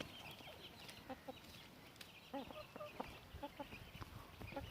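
Young chickens and roosters in a coop give faint, soft clucks, scattered short calls at a distance against quiet background noise.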